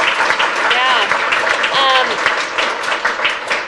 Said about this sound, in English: Thank you to our panel.